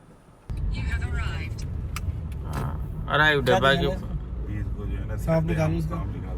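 A car speeds at about 60 in a 35 zone, racing to reach airport parking; a steady road and engine rumble runs throughout beneath continuous close-up conversation.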